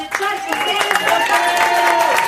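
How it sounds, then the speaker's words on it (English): A live audience at a storytelling game show applauds the judges, dense clapping and some cheering, loud and close, running throughout the brief moment with voices mixed in. "Let's give a big round of applause to the"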